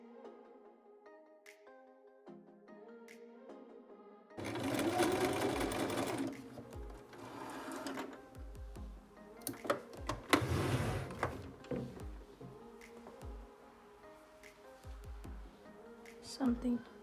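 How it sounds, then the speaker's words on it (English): Household sewing machine topstitching along a fabric edge of a beginner wrap dress, its motor whirring in bursts after a quiet stretch with soft background sounds, fairly close and moderate in level. "So I'm going to go ahead and do a top stitch right at the edge, leaving 1 centimeter from here."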